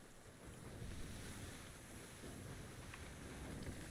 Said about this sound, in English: A little chop in the water here.